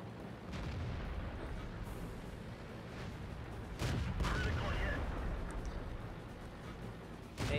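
Tank cannon shots in the video game World of Tanks, a few booming reports over a low continuous engine rumble, with one heavier blast near the middle.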